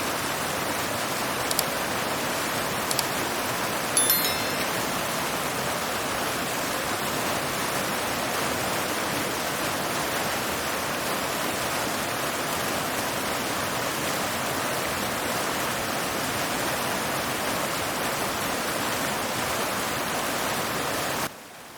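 Flash flood water rushes steadily in Saudi Arabia during a hail and flash flood emergency, a loud, continuous broadband roar that holds without pause for about twenty seconds before cutting off abruptly.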